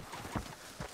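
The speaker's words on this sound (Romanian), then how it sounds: "Ăla-i calul meu." Horse hooves clip-clopping in Red Dead Redemption 2, a few soft irregular thuds of a walking horse, faint and close, with no talk.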